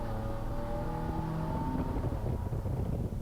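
A BMW M3 F80 accelerates hard in fourth gear on a track, a loud close engine roar climbing steadily in pitch before breaking into rougher, rumbling noise.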